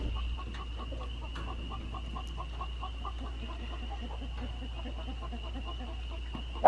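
Ayam Cemani chickens cluck in a steady, repeated patter nearby, over a constant low hum, with a short louder bump at the very end.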